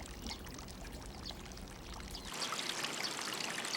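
Water pours and flows steadily in a riverside washing channel in a Satoyama village in Japan, a continuous close rush that grows brighter and louder partway through, with no voices.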